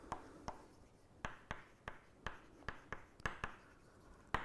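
Chalk or marker writing on a board during a lecture, heard as a quick series of close, crisp taps and short scratchy strokes in an uneven rhythm, with no talk.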